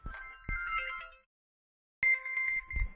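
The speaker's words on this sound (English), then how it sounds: "sorry, my phone, it never rings." A mobile phone ringtone plays in two bursts, a bright melodic tone sounding, then pausing about a second before ringing again, fairly close with no talk over it.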